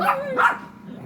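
Dogs barking outside a house in a quiet residential spot, two short bursts of barks at moderate distance, fading into soft background ambience.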